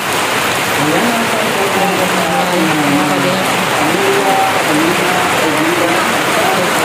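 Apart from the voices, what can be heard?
sudden heavy rain pouring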